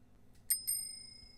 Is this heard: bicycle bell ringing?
yes